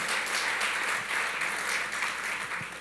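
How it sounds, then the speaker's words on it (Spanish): A church congregation claps steadily through a sermon, dense broadband applause held at an even level with only faint murmurs beneath. "Denle un aplauso al Señor, hermano."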